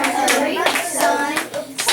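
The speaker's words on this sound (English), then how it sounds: "Tell them to clap it again." Children in a classroom music lesson clap out a rhythm together, sharp grouped claps in a short patterned sequence, close and fairly loud, with brief gaps between bursts.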